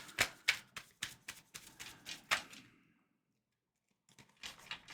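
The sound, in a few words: shuffling slippery tarot cards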